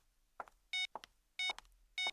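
A phone rings out unanswered in a repeating electronic pattern: three loud ring bursts at even intervals, close and clear, with no talk between them.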